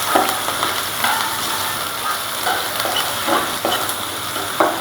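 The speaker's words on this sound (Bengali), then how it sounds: "কয়েকটা কাঁচামরিচ ফালি করে সেই ভেজে নেব" Sliced green chilies fry with bay leaves in a pan with a continuous loud sizzle, broken by soft scraping strokes as they are stirred.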